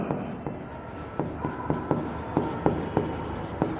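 Chalk or a marker taps and scratches on a board during an accounts lesson, making about a dozen sharp, evenly spaced strokes in a steady rhythm close by, with faint background voice.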